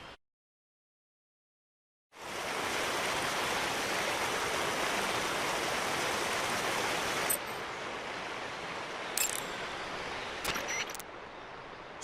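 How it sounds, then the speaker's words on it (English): A steady rushing stream and waterfall in the video game Metal Gear Solid 3 Delta starts abruptly after a moment of silence and continues loud and unbroken, with a couple of faint clicks near the end. "Keep going upstream until you get to a waterfall."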